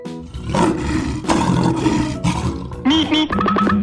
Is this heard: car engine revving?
no